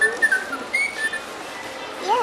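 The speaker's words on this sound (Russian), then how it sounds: "Он поющий попугай." A singing budgerigar whistles in short, bright chirps and rising and falling warbles, close and fairly clear over quiet background noise.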